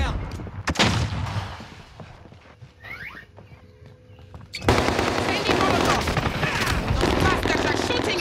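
Warzone video game flashbang grenade going off with a sudden loud burst, then sustained chaotic gunfire and explosions filling the mix, with players talking underneath.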